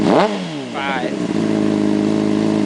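A Honda 600RR motorcycle with a GP slash-pipe exhaust blips up toward 5,000 RPM, then falls back to a steady, throbbing idle, loud and close.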